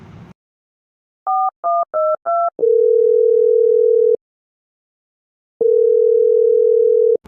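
Keypad tones beep four times in quick succession as a phone number is dialed, followed by two long, steady ringing tones separated by a pause of silence.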